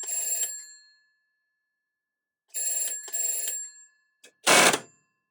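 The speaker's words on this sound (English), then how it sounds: "The GDK1 has no telephone circuit, so the ringing cannot be stopped by putting a handset down." A GDK1 telephone bell, driven through a converter, rings in short bursts of metallic clangour separated by silence, loud and close, followed by a brief clunk at the end.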